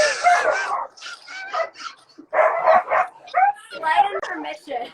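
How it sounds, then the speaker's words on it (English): Several dogs bark, yip and whimper in close, overlapping bursts, fairly loud throughout, with a short lull midway before the barking resumes. "bunch of dogs barking"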